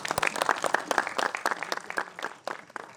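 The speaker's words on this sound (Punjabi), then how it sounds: "ਤਾਲੀਆਂ ਤੇ ਮਾਰੋ।" A crowd at a film promotion event in Chandigarh claps in a loose, uneven patter of individual hand claps, fairly close and moderately loud, rising and thinning over a few seconds with no speech.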